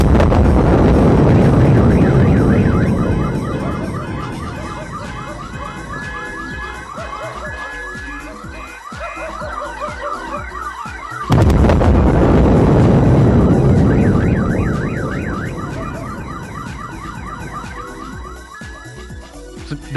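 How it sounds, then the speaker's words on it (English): A very loud skyquake with car alarms going off: wailing, warbling alarm tones rise and fall continuously, then a sudden heavy burst hits midway and the wailing starts over. "it will be very obvious when the skyquake happens, and it is extremely loud"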